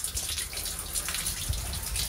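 Water running steadily into a sewer pump tank during installation of a garden house sewer pump system, a continuous soft trickling wash with no talk.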